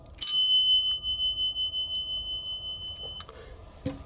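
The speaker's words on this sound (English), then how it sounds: "this right here are a couple of mechanical bell chimes" A mechanical elevator bell chime, a unit salvaged from a parking garage in Austin, is struck once and rings out with a bright metallic tone that slowly fades over a few seconds, followed by faint handling knocks.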